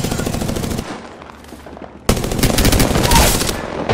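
Rapid automatic gunfire in the mobile battle royale shooter Apex Legends Mobile, loud and dense, bursting for under a second, dropping to a quieter lull, then resuming in a sustained, heavier barrage.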